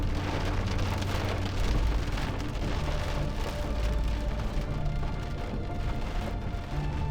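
Heavy rain pours down on a road during an Alps road trip, a loud, dense, steady hiss of drops close by that continues throughout without speech.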